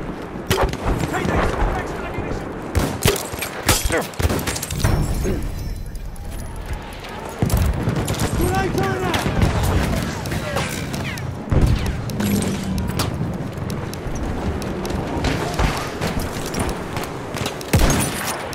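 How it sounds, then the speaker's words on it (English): Enemy machine gun fire in a first-person war video game, loud rattling bursts and booms mixed with other gunfire and explosions, heard alongside a player's speech. "Enemy machine gun, strike it."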